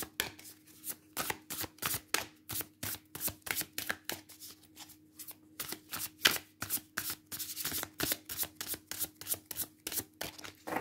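Tarot cards being shuffled by hand in a quiet room, a long run of crisp, rhythmic riffling flutters repeating steadily at close range with no talking.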